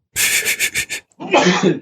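A person sniffs and gasps in a few quick bursts, then lets out a close, loud sneeze.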